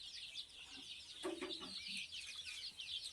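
Native desi chickens cluck softly on a small poultry farm, with a few short low clucks over a steady high chirping background, faint and distant.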